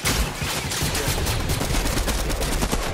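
Automatic gunfire in Fortnite rattles nonstop in rapid bursts, loud and dense throughout with overlapping shots and no pauses.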